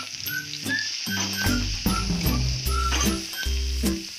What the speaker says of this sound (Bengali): পেঁয়াজ কুচিটা ভেজে নেব।